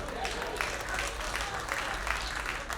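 A comedy club audience clapping in a scattered, rippling burst of applause at a stand-up show, moderately loud and sustained, with a faint murmur of voices underneath.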